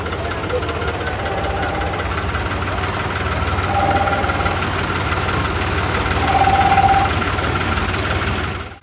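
Tractor engine running steadily on a rough sandy road near Dera Baba Nanak, a loud close low rumble with knocking vibration that swells slightly, voices faintly beneath.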